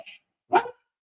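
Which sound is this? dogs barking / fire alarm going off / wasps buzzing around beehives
dogs barking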